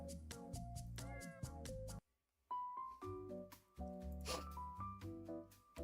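A musical song built from cat meows plays, with a run of rhythmic pitched meow notes, a brief quiet gap, then more melodic meowing phrases, fairly faint and without talk.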